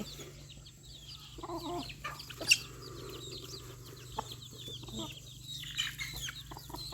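Several chickens cluck and murmur at a distance while being fed rice in rainy weather, with a low steady hum running underneath and one brief sharp sound partway through.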